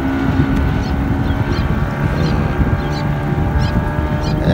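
Fishing boats head out to sea. A continuous low engine drone rumbles under strong wind buffeting the microphone, steady and fairly loud, with no voices.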